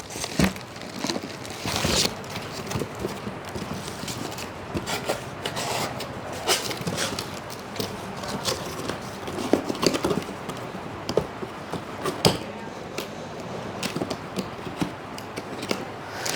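A BlackCopper thermal printer is pulled from its packaging, with continuous close rustling, crinkling and rubbing of plastic and cardboard. Sharper crackles and taps break through the steady handling noise.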